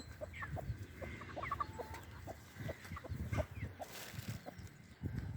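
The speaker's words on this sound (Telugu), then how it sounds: "చూడండి పుంజు" A rooster clucks repeatedly in short, uneven bursts, close by, over a steady farmyard background hum.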